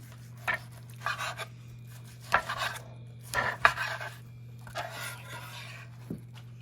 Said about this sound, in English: I'm gonna cut this other one up